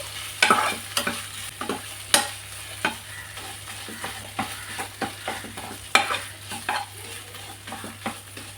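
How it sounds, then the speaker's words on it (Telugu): Ginger garlic paste frying in a pan for an Andhra-style spicy chicken fry, stirred with repeated scraping strokes over a steady close sizzle, no voices. "ఈ అల్లం వెల్లుల్లి పేస్ట్ అంతే కూడా ఒకసారి ఈ విధంగా కలుపుకొని 1 నిమిషం ఫ్రై చేసుకుందాము."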